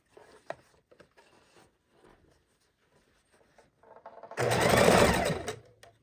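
A sewing machine runs in one steady burst of stitching across a tote bag seam near the end, after a stretch of quiet fabric handling and small taps.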